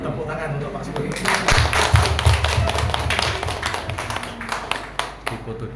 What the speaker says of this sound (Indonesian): Tepuk tangan untuk Pak Subur ini.